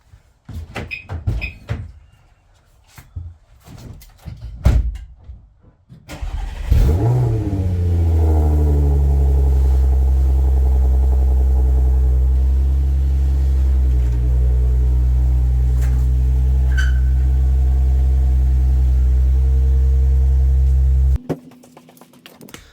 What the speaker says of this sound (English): So we'll go for a cheeky little cold start in the garage.